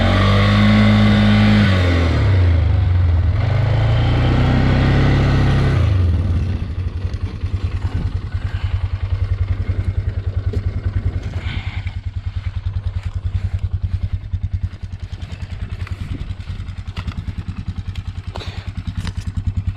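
A Polaris engine revs hard and close on a test ride, a loud droning rise that settles into a rapid, pulsing idle-like chug with rattles.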